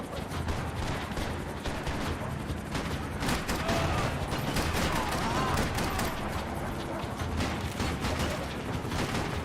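Dense gunfire rattles through a Max Payne 3 firefight, rapid overlapping shots and bursts running steadily throughout at moderate loudness, with a voice talking briefly over the shooting.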